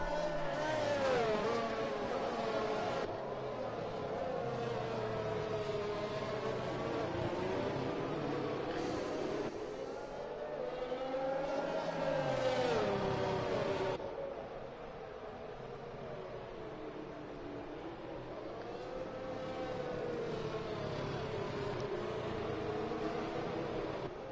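Formula 1 race cars in a racing video game at the Singapore circuit, running in a pack behind the safety car, give a steady, loud layered engine drone with rising and falling pitch sweeps throughout.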